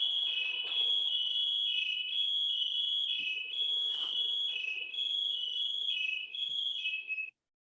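A firefighter's PASS alarm during a mayday drill in rescue training, sounding as a loud, continuous piercing electronic tone that steps between two close pitches in a repeating pattern for about seven seconds, then cuts off abruptly.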